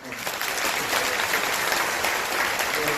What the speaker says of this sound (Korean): 중앙임원들께서 여러분을 향해서 인사하실 때 큰 박수 부탁드립니다.